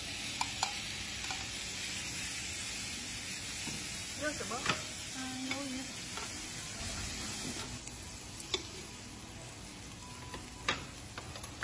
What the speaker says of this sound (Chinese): 看着鱿鱼爪在锅中被煎得自然舒展，滋滋冒油